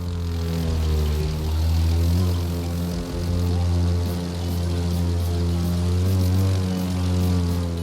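A propeller plane in the racing game The Crew 2 drones steadily close by, its engine buzz loud and continuous with slight swells in pitch as it maneuvers through the air.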